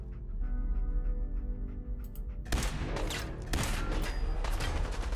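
A laser rifle fired in Fallout 4: a low droning hum, then a sudden loud volley of rapid crackling shots and blasts that continues to the end.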